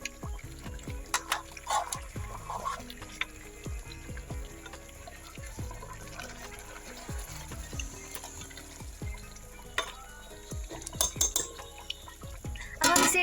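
Chicken masala stirred in a pan after water has been added, with repeated scraping and clinking of a spoon against the pan and wet sloshing, close and steady, no talk.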